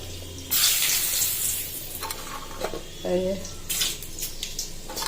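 Cinnamon, cloves, mace and cardamom hit hot oil in a home kitchen pan with a bright hiss that swells then settles into a steady sizzle, with a few clinks and a voice speaking over it.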